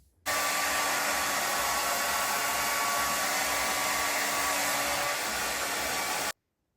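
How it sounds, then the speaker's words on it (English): A hair dryer blowing 4C natural hair runs as a steady, loud whooshing drone that starts abruptly and cuts off after about six seconds, with no talking. "I hold my hair like this to blow dry it, just so it stretches it out a bit."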